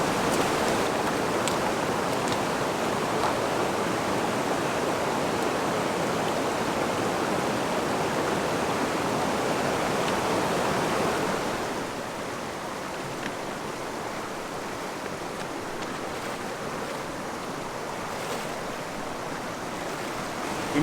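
A hard-flowing mountain stream rushes at a trail crossing, a loud broadband roar of churning water that continues throughout, dropping slightly in level partway through as the listening position shifts.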